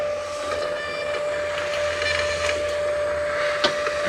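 A label printer runs continuously while printing shipping labels, a steady whirring mechanical hum with a sustained whine and small clicks, close by, ending with a quick stop.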